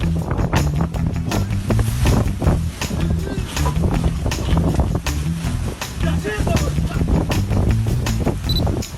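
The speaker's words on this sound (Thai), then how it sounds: "จะเกิดอะไรขึ้นเมื่อคุณพยายามยกของในสภาพอากาศที่มีลมแรงจัด" Strong gusts buffet the microphone in rough, roaring bursts throughout, with low rumbling like a passing boat or vehicle underneath, as someone struggles to lift things outdoors in extreme wind; voices are heard through the noise.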